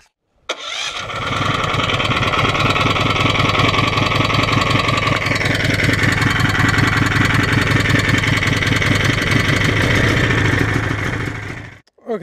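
Small engine starting after gas is added with the choke on, catching abruptly and then running at a loud, steady idle for about eleven seconds before cutting off.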